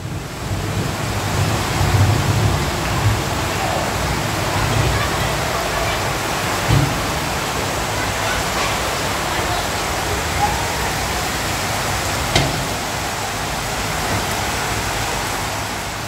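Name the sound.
rain pattering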